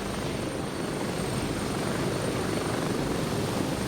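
Helicopter in the tactical shooter Gray Zone Warfare, a steady loud rotor and engine roar with dense broadband wash, continuous and close throughout.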